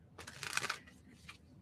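A tarot card deck gets a quick shuffle, one short soft riffle of cards, faint and close, with no talk over it.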